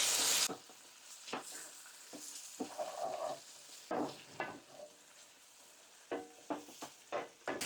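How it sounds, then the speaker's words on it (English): Flour cooks in a hot pan for milk gravy, giving soft sizzling under intermittent scraping strokes of a utensil, close and fairly quiet with brief pauses. "I'm just going to cook that flour for about a minute, just so it doesn't have that raw flour taste"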